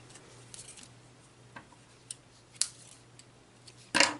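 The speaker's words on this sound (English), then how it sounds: "that's why I don't use my paper scissors on twine." Paper scissors snip through gray twine in a series of sharp, separate cuts spaced a second or so apart, ending with a louder, longer snip.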